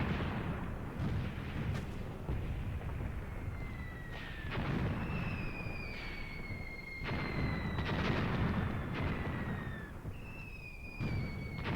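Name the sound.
gunfire from firing positions in a video game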